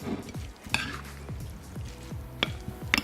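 Bean salad tossed with dressing in a bowl, soft wet squelching and a few sharp clinks of utensils against the dish, close and quiet, with irregular scoops and no talking.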